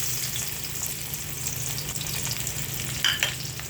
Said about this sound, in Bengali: এটাকে ব্রাউন করে ভেজে নিব।